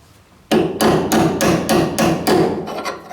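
Seven sharp metallic hammer taps drive a brass hinge pin into the door hinge of a 1973-1987 Chevy truck, evenly spaced and close, with no talk.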